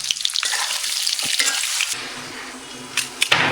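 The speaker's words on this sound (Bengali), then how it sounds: "বেরেস্তা ভেজে তুলে এখন সেই তেলেই আলুগুলোকে ভেজে নিতে হবে।" Potatoes fry in hot oil with turmeric and salt, a loud, close sizzle with scraping stir strokes, the crackle easing slightly toward the end.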